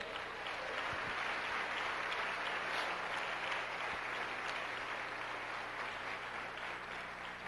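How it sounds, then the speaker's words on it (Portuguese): A church congregation applauding, broad continuous clapping from many hands at an even level, sustained for several seconds with no speech over it. "Você pode aplaudir a Jesus por isso?"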